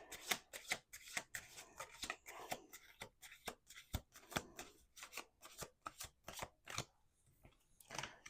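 Tarot cards being shuffled by hand, a close series of sharp riffling bursts and soft slaps repeating in quick irregular rhythm, quiet and intimate with no talking.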